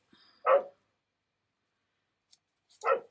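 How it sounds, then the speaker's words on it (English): A dog wanting to come inside during an indoor craft session barks twice, each a short sharp bark close by, separated by about two seconds of near silence with a faint click between. "And of course my dog wants to come in whilst I'm talking."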